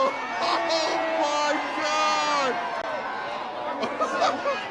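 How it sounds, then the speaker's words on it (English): A crowd whoops and yells in loud, sustained cheering, many voices overlapping in rising and falling shouts throughout. "Why are they cheering?"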